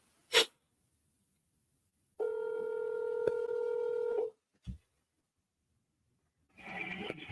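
Telephone dialing tones on a follow-up cold call for commercial real estate: a sharp click, a steady two-tone beep held for about two seconds, a brief thump, then a rougher burst at the end, all with no talking.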